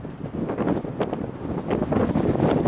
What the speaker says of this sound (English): The wind's starting to pick up.